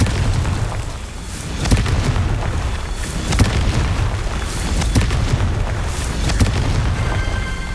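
Confringo fire spell explosions in the Hogwarts Legacy video game, a string of deep booms and sharp bursts over a continuous rumbling roar, loud and close throughout.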